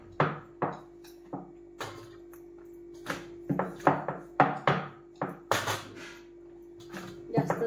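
A small bowl presses down repeatedly on rolled-out puri dough, giving a series of close, soft thuds in an irregular quick rhythm, some struck in tight clusters, with a faint steady hum underneath.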